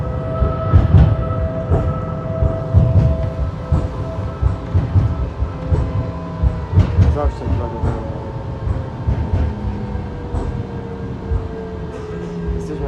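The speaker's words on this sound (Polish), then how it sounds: "Teraz jedziemy trójką Duewagiem MGT6D." A Duewag MGT6D tram on line 3 in Łódź rolls along its rails, heard from inside. Steady rumble, wheel clatter, motor whine and passing rail joints carry on throughout, with occasional voices.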